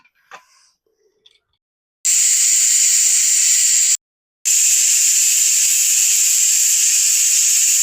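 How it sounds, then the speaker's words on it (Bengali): A pressure cooker on the stove boiling lentils lets out two loud, sustained steam hisses, the first about two seconds long, then a brief break before a longer hiss, with faint clinks before. "আমি সুন্দর করে সেদ্ধ করে নেওয়ার জন্য প্রেসার কুকারটা চুলোর উপর তুলে দিলাম"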